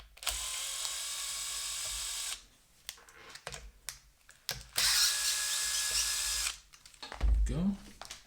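A power screwdriver removes screws from a Bang & Olufsen Beolab 14 subwoofer during disassembly, whirring in two sustained bursts of a few seconds each, separated by quieter clicks and handling noises, with a short low thump near the end.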